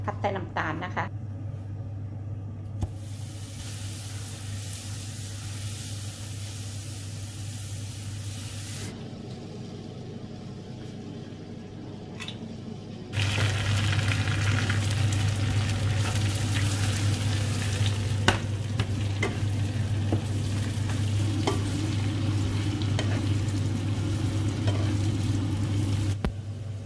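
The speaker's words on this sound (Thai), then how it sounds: "อันนี้ผัดมันฝรั่งนะคะมันฝรั่งทำเป็นน้ำตาลนะคะผัดใส่น้ำตาลนะคะ" Potatoes stir-fried with sugar in a pan give a steady close sizzle with occasional stirring scrapes, turning louder partway through, while someone talks over the cooking.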